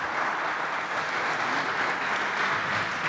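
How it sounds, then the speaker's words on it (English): Audience applauding panelists at the close of a session at the EU-African SME Summit 2021, a dense, steady wash of many hands clapping that holds evenly throughout with no voices. "a big round of applause to my panelists for today"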